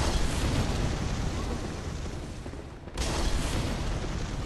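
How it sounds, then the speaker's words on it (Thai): An explosion booms in the video game Bloodborne, a loud, broad rumbling blast that fills the clip, briefly drops away, then surges back for a second burst. "ระเบิดนี่ลดเยอะนะครับ ระวัง"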